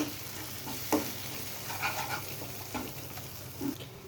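Powdered turmeric, cumin and chilli being stirred in a pan of cooking oil for a chana dal curry; soft, intermittent spoon scrapes over a faint, low sizzle, fairly quiet and with no talking.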